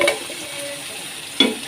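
Potato pieces frying in hot oil for aloo palak, a soft steady sizzle with one brief sharp clink of a utensil near the end.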